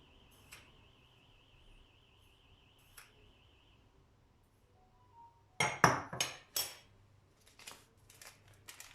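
An egg is cracked against a bowl for pancake batter, then sugar is added: a few light taps early, then a cluster of sharp, close clinks and rustles, followed by softer scattered knocks in a quiet kitchen.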